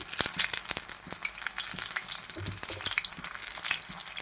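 Onion bajji fry in hot oil, giving a continuous close crackling sizzle with scattered pops and stirring sounds, and no voices.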